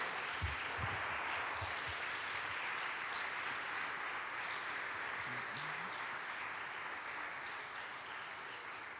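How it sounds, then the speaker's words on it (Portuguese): A church congregation applauds during a Holy Communion service in Barretos, a soft, steady wash of clapping throughout, with a few low thumps early on. "Você pode dar uma salva de palmas para Deus?"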